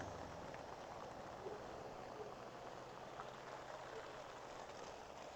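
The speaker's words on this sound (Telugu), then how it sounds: "ఫుల్ రెయిన్ అవుతుంది ఇక్కడ" Heavy rain pours steadily at a roadside shop stop on a long road trip, a dense, even hiss throughout, quiet overall with faint voices mixed in.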